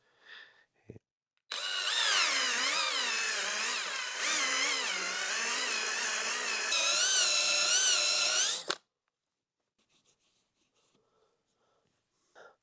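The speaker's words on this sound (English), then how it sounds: "depending on how fast you spin the drill and how fast you're moving in and out." A power drill spins a cylinder hone inside a Kawasaki KX125 cylinder, a loud continuous whining grind lasting several seconds with a wavering pitch as the hone moves in and out, starting and stopping abruptly.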